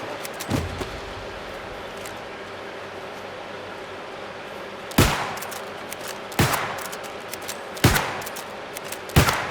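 Gunfire in the game New World, a few loud separate shots spaced a second or more apart over a constant hissing background.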